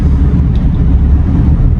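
Normal street traffic in Islamabad, with motorcycles on the road, heard as a loud, continuous low rumble of passing vehicles and engines, with no voices.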